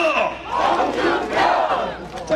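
A crowd at a political campaign rally cheers and shouts in rising and falling waves, loud and close, with no speech over it.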